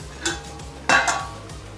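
Metal pot lid set down on a pot of rice after salt is stirred in: a light clink, then a louder clattering knock that rings briefly, close by in a quiet kitchen.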